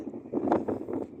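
Strong gusty wind buffets the microphone in low rumbling bursts near a wind turbine, swelling and fading a few times over a short moment.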